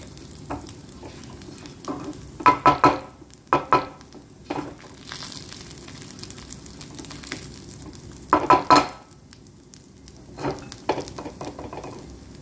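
Garlic slices and cumin seeds frying in hot oil, a steady soft sizzle with repeated louder scraping stirs from a utensil against the pan at intervals.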